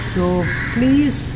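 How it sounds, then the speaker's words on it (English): A crow caws loudly and nearby outdoors, two drawn-out calls mingled with a voice speaking over a steady ambient background. "You would have heard the birds chirping and all that."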